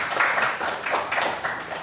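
Students clapping together in a classroom for a classmate, a steady patter of hands lasting the whole moment at moderate loudness with no voices over it.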